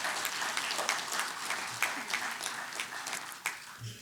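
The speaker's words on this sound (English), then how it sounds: "They deserve a special applause for all the students who have taken part" Audience applause rings out for participating students at a startup festival, a few seconds of moderately dense clapping that tapers off toward the end.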